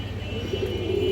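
A healthy, active domestic pigeon gives a brief, low coo that swells near the end against a steady hum.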